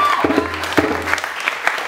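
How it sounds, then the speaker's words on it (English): Audience at a book release event gives brief scattered applause, a few uneven claps over room murmur. "A round of applause for myself for the first time."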